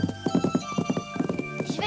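Horse hooves clip-clop in a quick, steady rhythm of close, fairly loud beats, with some voice or other sound layered underneath.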